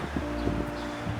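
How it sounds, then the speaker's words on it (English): Steady rushing wind noise fills the clip outdoors beside a 2019 Harley-Davidson Street Glide CVO motorcycle, a broad continuous roar with faint rustling, no voices. "Kind of a windy day today."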